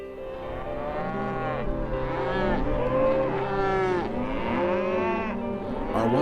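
Cattle moo repeatedly during a cattle drive in Utah, long drawn-out lowing calls that overlap from several animals, loud and near, with no talk over them.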